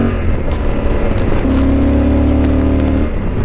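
A Yamaha Super Tenere motorcycle engine revs while cornering, a loud close-up drone that steps into a steady higher hum partway through and then drops back, with constant road noise underneath.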